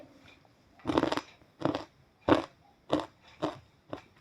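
Someone bites and chews crispy Haldiram-style masala peanuts, five or six distinct crunchy bursts spaced about half a second apart, close and clear with no talking.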